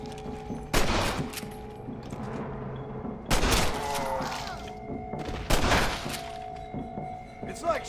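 Gunfire in Red Dead Redemption: Undead Nightmare sounds as three loud, sharp blasts a few seconds apart, each followed by a short crackling decay. There is a low rumble of game ambience between the shots, and no one is speaking.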